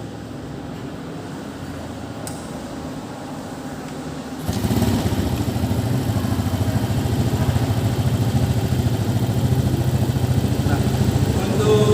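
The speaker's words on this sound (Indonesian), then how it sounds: "langsung saja kita nyalakan sepeda motornya" A motorcycle engine starts partway through and settles into a steady idle with a low, even putter, close by and continuing to the end; someone speaks briefly at the start.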